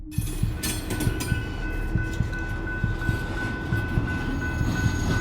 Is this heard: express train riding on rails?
yes